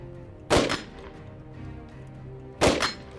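Two loud, close gunshots from a weapon on a shooting range ring out about two seconds apart. Each is a sharp crack with a short decaying echo, and the gap between them is quiet.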